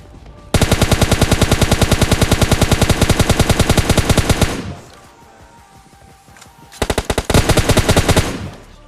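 Automatic weapon fire in the PUBG Lite video game rattles in a long loud burst of rapid shots, falls quiet for about two seconds, then returns as a second shorter burst.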